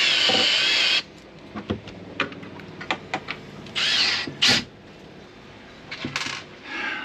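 A power drill drives screws in short whirring bursts, with a longer run at the start and scattered clicks and clatter of handling between them, close by.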